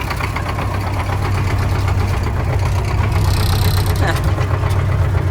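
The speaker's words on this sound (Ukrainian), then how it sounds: "трактор покотився" The heavy diesel engine of an MTZ-50 tractor rumbles steadily at close range, a low chugging drone that holds throughout with a brief rattling clank near the end.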